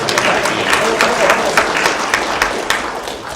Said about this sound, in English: please clap for Andy